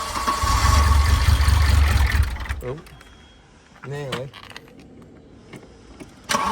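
A car engine cranks loudly for a couple of seconds on a restart attempt during fuel-system troubleshooting, then falls away, followed by brief talk and small mechanical clicks.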